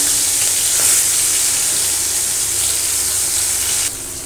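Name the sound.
shrimp frying in hot oil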